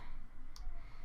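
A single sharp computer mouse click, brief and fairly close, standing out against a steady low background hum.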